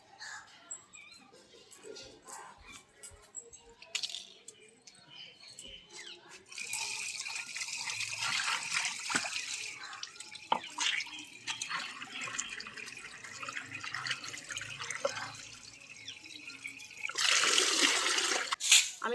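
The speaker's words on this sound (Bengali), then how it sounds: "এর মধ্যে বালি আছে, সেগুলো আমি একটু ধুয়ে দেবো ভালো করে" Running water splashes and rinses sand out of clay yogurt pots at a sink, in intermittent bursts of gushing and trickling at close range, with a voice speaking softly nearby.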